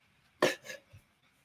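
A person gives one short cough with a smaller follow-up, fairly faint, in an otherwise quiet indoor space.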